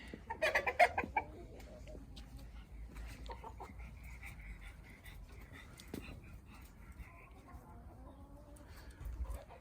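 Chickens cluck around a mobile coop on wheels moved through meadows, soft scattered clucks and calls with a louder burst near the start, faint outdoor background and a low voice murmuring.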